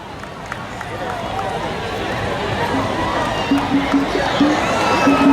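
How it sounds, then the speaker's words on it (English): A large crowd at a Ghanaian political launch cheers and shouts as a dignitary takes his seat, a rising roar of voices, whoops and movement with brief tonal sounds over it. "Shall we do a very big round of applause as His Excellency takes his seat now?"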